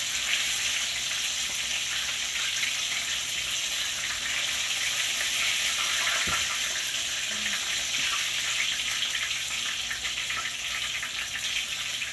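Chicken fries in hot grease with a constant loud hiss and crackle close up, steady throughout, with one faint dull knock partway through and no talking.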